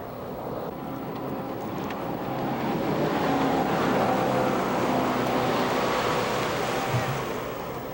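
A propeller-less river guide boat running over the shallow Manistee River, a steady close engine drone mixed with rushing water and wind buffeting, swelling slightly louder midway.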